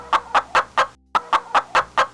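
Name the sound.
voice imitating chicken clucking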